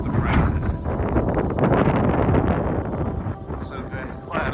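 Strong wind roars and buffets a microphone at a roadside fuel stop at the Area 51 Alien Center in Winslow, Arizona. The heavy low rumble continues throughout with fluctuating gusts, and a voice speaks briefly amid the noise.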